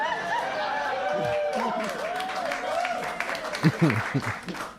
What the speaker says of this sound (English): I love when people clap for drugs.